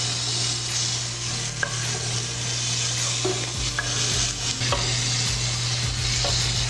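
Polenta simmers in a pot while liquid is added and a spoon stirs it, giving a continuous low bubbling hiss under a steady hum, with scattered scraping and tapping strokes and no voices.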